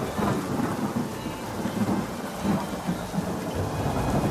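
Heavy, steady rain pours down, with deep thunder rumbling continuously beneath it, loud and close, and no voices.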